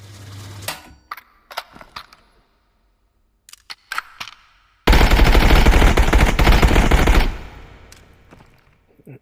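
A sustained burst of automatic rifle fire in the Contractors Showdown video game, 5.56x45 ammunition emptying a full magazine in one continuous loud stream after a few scattered single shots and clicks.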